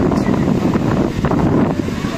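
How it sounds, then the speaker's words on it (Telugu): Strong wind buffets the microphone at Rock Beach in Pondicherry, a loud, gusty roar that swells and dips throughout, with faint surf-like rumble underneath. "ఫుల్ గాలి వస్తుంది"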